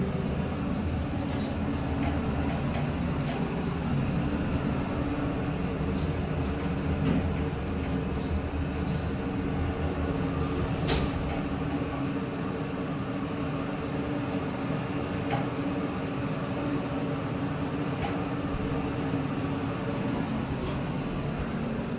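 A 1991-era Montgomery A Series hydraulic elevator runs with a steady low mechanical hum and drone from start to end, with only faint occasional clicks.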